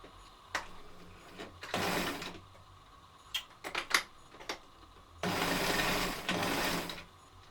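A sewing machine stitches around the edge of a reusable sanitary pad in two loud sustained runs separated by a pause filled with small clicks and handling noises, with no speech.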